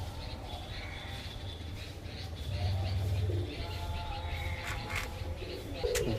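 Pigeons in a loft at Behala Thakurpukur give a low, throaty coo that swells near the middle, over a steady murmur of background noise.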